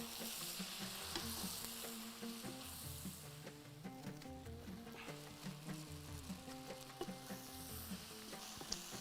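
A shrimp mixture for Muwawaash Rubyan is stirred in a pan, giving a quiet, continuous sizzle with soft scraping and background music underneath.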